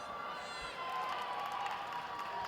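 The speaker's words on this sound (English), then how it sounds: "there's the crowd applauding the goal" Fans at an indoor netball arena at the University of Botswana, during a Netball World Youth Cup match between Jamaica and Uganda, applaud and cheer after a goal, a faint, distant, steady crowd wash with a commentator talking over it.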